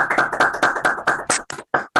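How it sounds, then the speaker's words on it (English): Applause for a comedian at a live comedy show: a close burst of clapping that thins into a few scattered claps near the end. "One more round of applause for Julia Austin"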